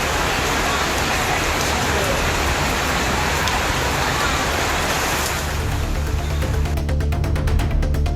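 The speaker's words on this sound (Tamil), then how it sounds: "பிற்பகலுக்கு பின்னர் பலத்த காற்றுடன் மழை பெய்தது" Heavy afternoon rain falls with strong wind in a loud, steady, dense wash of noise that fills the whole stretch, easing slightly near the end.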